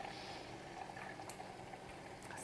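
Butter simmering in a pan while being cooked down into ghee gives a steady, quiet, close bubbling and crackling sizzle throughout.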